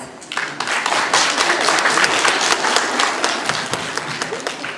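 Audience applause at a St. Nicholas Day celebration held by the OPK "Lybid" club: a dense, steady wash of many hands clapping together, loud and close, sustained without a break for the whole stretch.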